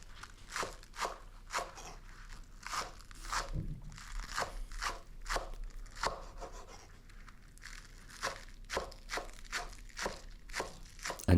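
A kitchen knife chops green onions on a cutting board in a Korean pizza shop, a steady series of crisp, close cuts spaced roughly every half second, moderately loud with no talking.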